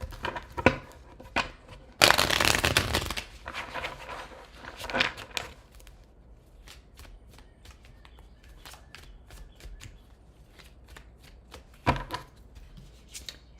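Tarot deck shuffled in one loud riffling burst near the start, then quieter card handling and scattered taps close by, no voices.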